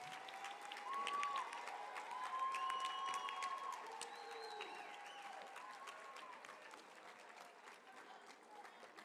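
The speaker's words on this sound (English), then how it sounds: "one more round of applause as these are" A large crowd at a sixth grade promotion ceremony applauds steadily, a dense wash of clapping that swells and then slowly fades, with a few cheers over it.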